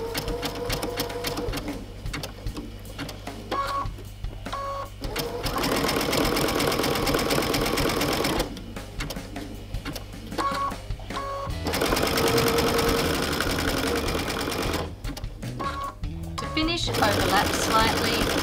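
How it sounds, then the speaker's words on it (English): A sewing machine runs zigzag stitches on raw edge appliqué fabric in loud, steady bursts of several seconds each, separated by short pauses, with a voice talking between runs. "you'll go just into the zigzag again and continue stitching"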